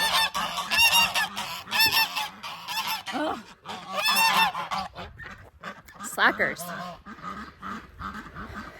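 Geese honk repeatedly nearby, loud and raucous, with bursts of calls coming one after another while a person briefly mutters.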